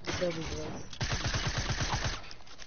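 Rapid tactical SMG fire in a video game crackles in a quick rhythmic burst through the middle of the clip, loud and close, with game sounds and some voice-like tones before it.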